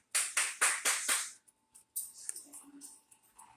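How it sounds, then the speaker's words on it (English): A brother claps his hands to call two dogs, one a foster: five sharp, evenly spaced claps close by, then a pause and a few scattered softer taps and clicks. "My brother was clapping to make our dog and the dog that we're fostering"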